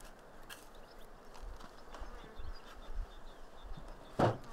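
Honey bees hum and buzz around an open hive in an apiary. The drone is soft and continuous, with single bees passing close now and then, and there is no talk.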